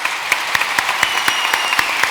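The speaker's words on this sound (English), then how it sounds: "And with a big applause" Audience applause at the close of a design week panel, with moderate steady clapping and a few sharp, regularly spaced louder claps near the microphone standing out through the short stretch.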